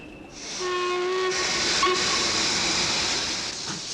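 A British steam locomotive sounds a steady steam whistle note, loud and close, then breaks into a strong broad hiss of escaping steam that carries on to the end with no voices.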